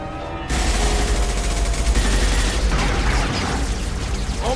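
Sustained gunfire in the video game Mass Effect 2, a dense loud barrage of rapid shots that bursts in abruptly after a brief quiet moment and continues without pause.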